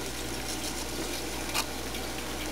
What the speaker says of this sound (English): I'll just add water.